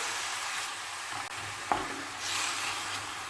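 Onions frying in a pan, a soft continuous sizzle with a single clink of the stirring utensil, faint and close.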